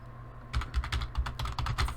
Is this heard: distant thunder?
no